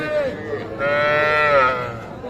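Heifer calves moo at a cattle market, two drawn-out nasal calls close by, with faint crowd murmur beneath.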